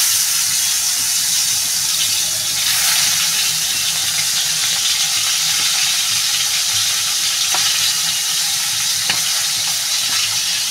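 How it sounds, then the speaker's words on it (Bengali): Tilapia fish frying in hot oil, a loud, steady, close sizzle that runs unbroken for about ten seconds, with an occasional faint tap and no voices. "তেলটা গরম হয়ে গেছে, মাছটা দিয়ে দেবো।"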